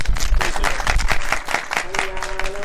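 A congregation at a church groundbreaking ceremony applauds to welcome an honourable general superintendent, with brisk, close clapping throughout and voices murmuring underneath.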